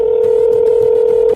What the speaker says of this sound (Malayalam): തന്നിരിക്കുന്ന ഫോൺ നമ്പറിൽ നമുക്ക് വിളിക്കാം